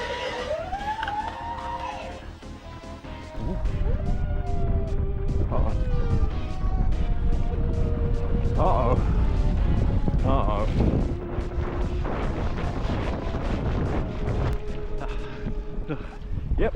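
An Udi Arrow 5 RC boat crashes and breaks its shaft, heard as a loud sustained roar with harsh crashing impacts and whining motor pitches, recorded outdoors with wind buffeting.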